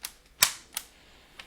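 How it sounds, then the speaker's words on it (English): A 1960s ultrasonic TV remote control gives a few sharp mechanical clicks as its buttons are pressed, one loud snap followed by two lighter ones, close and alone. "So this has a nice, really satisfying clicking sound."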